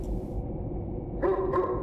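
A dog barks in the Teleforum video game, with two short barks near the end over a steady low game ambience.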